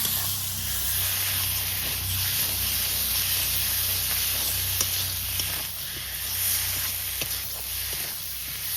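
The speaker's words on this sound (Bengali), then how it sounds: "এখন এই আলু ভাজাটা দিয়ে আর একটু কষিয়ে নিয়ে ঝোলটা দেবো" Fried potatoes tossed back into a pan of spices with turmeric and chilli powder for a fish curry, giving a steady close sizzle and hiss. Occasional soft clicks and scrapes of stirring come through, with no talk.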